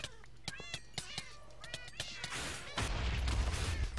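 Cats in a modded Minecraft game give a rapid series of short, sharp meows, about a dozen in quick succession, before a louder burst of crashing noise takes over at the end.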